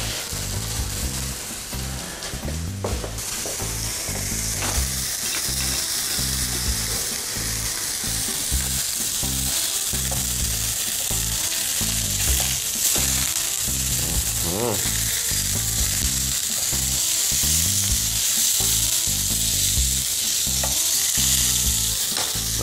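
Meat sizzles and fries hard in a pan, a dense steady crackle throughout, with regular rhythmic stirring or turning strokes audible beneath it; no voices.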